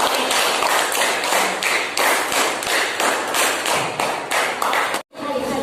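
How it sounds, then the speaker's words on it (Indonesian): Classmates clap together in a classroom for a student group, a dense, steady burst of applause lasting several seconds before stopping abruptly, then a brief quieter tail. "Tepuk tangan kasih teman perwakilan dari kelompok Kurma ya."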